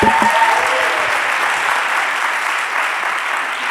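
Conference audience at a digital health reform session breaks into loud, sustained applause, dense and even, with a brief bit of voice at the very start before the clapping carries on alone.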